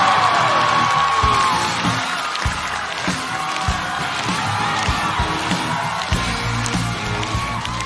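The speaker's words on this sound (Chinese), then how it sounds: "掌声有请我的搭档王建国" A crowd at a Chinese stand-up comedy show cheers, whoops and applauds steadily to welcome the comedian's partner Wang Jianguo to the stage, a dense, full-room roar that continues throughout without a break.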